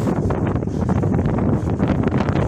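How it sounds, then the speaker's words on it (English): Strong wind gusts up to about 40 knots buffet the microphone outdoors on the water, a loud, rumbling roar that stays constant throughout. "Just like the wind gusting to like 40 knots out here today."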